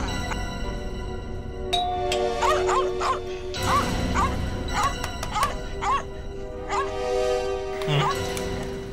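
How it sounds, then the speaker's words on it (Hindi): Inside a house, a distressed dog barks and yelps repeatedly in agitated bursts. The barking is close and fairly loud, mixed with some whimpering, and runs over a constant electronic tone and a few clinks. "कुत्ता परेशान है।"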